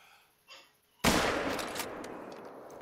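A single hunting rifle shot in the video game theHunter: Call of the Wild, a sharp loud crack followed by a long rolling echo decaying across open terrain, preceded by a faint brief rustle.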